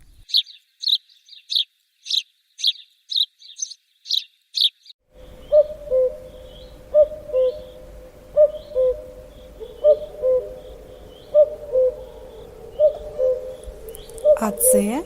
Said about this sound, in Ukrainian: Зозуля.